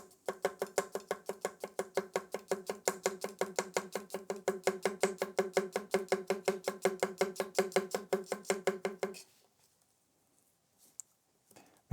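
An Enso full-size bunka knife chopping food on a board in a fast, even run of about fifty crisp close cuts, stopping abruptly, followed by near silence with a couple of faint knocks.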